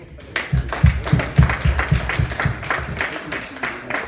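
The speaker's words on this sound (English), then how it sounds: "Another hand clap, please." An audience of lawyers at an association gathering claps in a short burst of dense, irregular applause. The clapping swells over a few seconds and then fades, with voices mixed in underneath.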